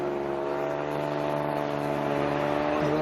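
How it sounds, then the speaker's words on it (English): A Porsche drives past near a heritage steam railway station in West Somerset, a loud steady engine drone with harmonic whine that shifts slightly in pitch toward the end as it goes by. "Well, that was a Porsche going by."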